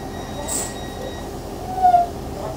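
A Northern Rail train at Penistone station pulls away, with a low rumble of wheels and engine, a short high squeal and a brief louder surge near the end.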